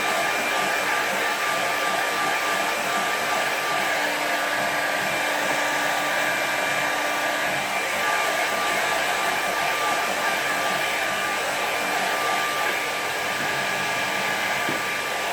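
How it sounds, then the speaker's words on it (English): A hair dryer blows steadily on a watercolour painting of a snowy park, a continuous close whirring hiss with a faint whine that holds unchanged throughout, with no talking. "Then I'm going to give that a quick dry."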